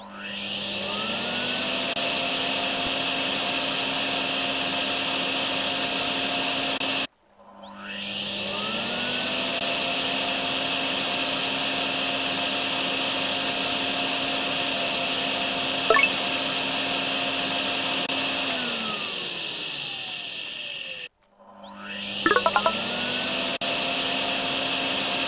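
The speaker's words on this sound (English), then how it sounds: "Vacuum remaining basement water. The vacuum works best in shallow areas." A wet vacuum sucks up leftover basement water in the video game DrainSim, a steady loud whine with a low hum running continuously, cutting off twice and spinning back up, with no talk.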